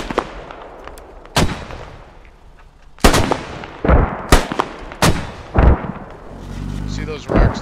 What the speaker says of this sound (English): We're shelling it.